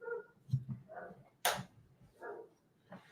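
A dog barks indoors from somewhere below in the house, giving several muffled, moderately distant barks and yelps spaced irregularly, with one sharper, louder burst in the middle.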